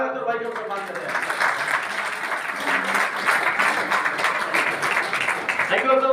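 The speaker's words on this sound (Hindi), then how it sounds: "एक जोरदार तालियां अख्तर भाई को सम्मान करते हैं।" Applause from a gathered crowd honouring Akhtar bhai at a Green Army environmental pledge event, a dense steady clapping that fills the space for several seconds with a voice audible underneath.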